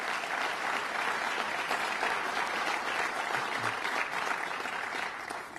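An audience at a Staten Island budget address breaks into a round of applause, dense sustained clapping from a large crowd filling the room, steady and loud throughout.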